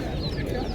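Fancy pigeons at the Fatullah pigeon market in Bangladesh, with low cooing and bird calls heard close over busy crowd chatter and voices.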